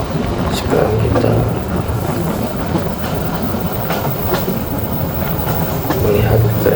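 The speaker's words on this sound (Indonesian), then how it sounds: "melihat kereta dibelokkan." A Parahyangan executive class train runs through a curve between Bandung and Purwakarta, with a steady loud rumble and rhythmic clickety-clack of wheels on rails heard from inside a carriage, under faint talk.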